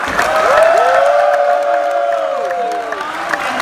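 An audience at a film premiere in Charlotte applauds steadily while voices whoop and cheer over the top, loud and close, filling the whole moment.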